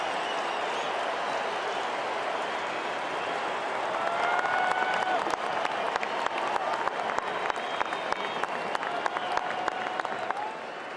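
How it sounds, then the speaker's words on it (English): A home baseball crowd at Dodger Stadium applauds and cheers a Dodgers pitcher during a Reds versus Dodgers game, a steady roar of clapping that swells around the midpoint and continues loud to the end. "They're trying to urge him on as he fires the 1-2 to Moran."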